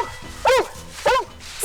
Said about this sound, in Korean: 사람을 발견하면 짖어서 신호를 보낸답니다.